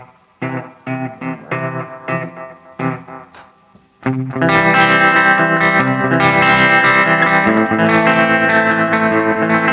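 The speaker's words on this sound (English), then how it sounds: "Maybe here you would dial in, I don't know, shorter tape echo." Electric guitar played through a Harley Benton DNAfx Git pro with tape echo: a few short plucked chords with echoing repeats, then a loud, full strummed chord that rings and sustains, close and with no voices.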